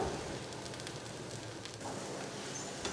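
Adai dosa with spinach and onion cooks in oil on a pan, giving off a faint, steady sizzling hiss with light crackles, no voices.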